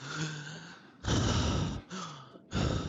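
A character in The Dark Pictures: Devil in Me breathes heavily in close, loud rasping bursts, with a long inhale followed by two more harsh breaths separated by brief pauses.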